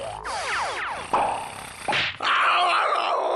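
A cartoon character snores loudly and theatrically, with rough, rasping grunts and roaring breaths that rise and fall in a few big exaggerated bursts.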